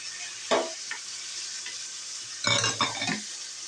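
Meat sautés with shrimp paste in a hot pan for Bicol express. A steady close sizzle runs throughout, broken by two short bursts of spoon-stirring scrapes.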